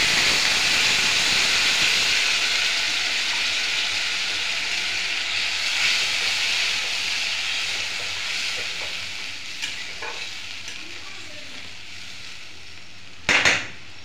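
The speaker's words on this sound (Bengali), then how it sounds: "জল দেওয়ার পরে ঝোলটা বেশ ভালো মতন টকবক করে ফুটে উঠেছে।" Curry gravy in a pan boiling vigorously after water is added, a steady loud hiss of bubbling and sizzling close up that eases slightly over time, ending with a brief clatter.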